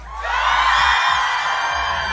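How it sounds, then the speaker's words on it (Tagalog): Live audience at a BGYO fan event in the Philippines shouting, whooping and cheering loudly together, a sustained dense roar of many voices close by that swells in and holds. "pwede ba namin kayo marinig na sumigaw at maghiyawan?"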